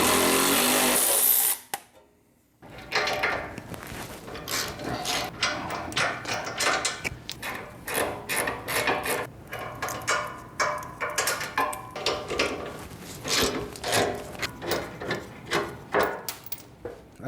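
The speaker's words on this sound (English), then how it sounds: "we're gonna remove the bolts that are holding down the center bracket on both driver and passenger side" Ratchet spinning bolts out of the center bracket on a 1995 Chevy OBS truck during an LS swap, a burst of loud power-tool whir at the start followed by a long run of close, repeated clicking ratchet strokes.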